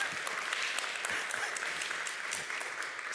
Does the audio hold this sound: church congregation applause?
yes